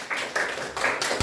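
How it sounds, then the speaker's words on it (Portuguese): Schoolchildren clap in a classroom vote at a school in Maringá, short bursts of scattered claps coming in a few uneven waves, moderately close, with no talking. "Teve palmas aí"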